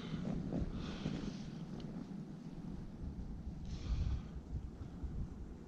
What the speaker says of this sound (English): Sounds windy out there.